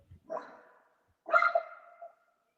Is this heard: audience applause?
no